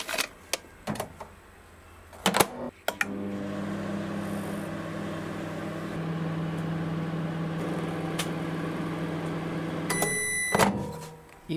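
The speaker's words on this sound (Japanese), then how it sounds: "これを電子レンジに入れて1分間加熱します。" A microwave oven heating a paper bag of ginkgo nuts for one minute, a steady mechanical hum with a low droning tone, bracketed by a few clicks and a door thunk at the start and a beeping at the end.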